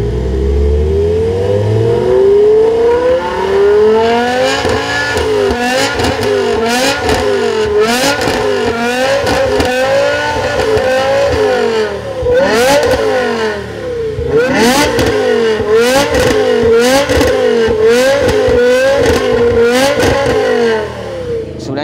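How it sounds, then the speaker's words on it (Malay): A BMW E60 converted to a 5.0-litre M Power V10 revs repeatedly, rising and falling in sharp bursts, loud and close, with rapid throttle blips through the middle. "di-upgrade ke enjin M Power, iaitu 5000cc V10"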